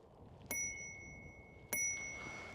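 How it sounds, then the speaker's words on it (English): A ringer-style bell on the handlebar of an Engwe E26 electric mountain bike gives two bright, clear dings about a second apart, each ringing on briefly before fading, close over faint outdoor background noise. "Which is actually like a ringer bell."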